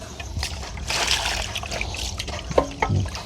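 Water is poured and sloshed for rinsing, with trickling and splashing close by, a brief voice cutting in near the end.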